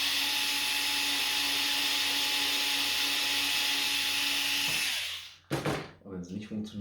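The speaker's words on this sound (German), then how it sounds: "Also machen wir das Ganze nochmal mit dem 2-5er-Bohrer." A 2.5 mm drill bit bores holes in a part for a Wanhao D12 3D printer, heard as a steady loud high-pitched whine lasting several seconds before stopping, followed by someone speaking.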